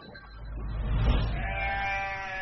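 Lambs in a mountain-village sheep pen give a drawn-out, odd-sounding bleat at dawn, a single wavering call rising out of a quiet, low rumble.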